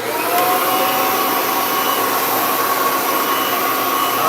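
A Kirby vacuum cleaner runs at full power, used to clean another Kirby machine, giving a loud, steady motor whine and airflow roar that holds constant throughout with no talking.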